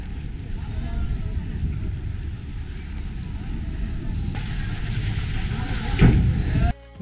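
Steady low rumble and wind-blown engine drone aboard the passenger ship M.V. Modhumoti underway from Pirojpur to Dhaka, loud and continuous with faint voices in the background.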